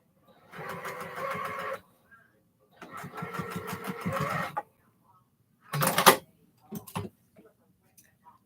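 A sewing machine stitching a quarter-inch seam on socks runs in two steady bursts of rapid mechanical chatter, close and clear, followed by a few short louder clunks of handling.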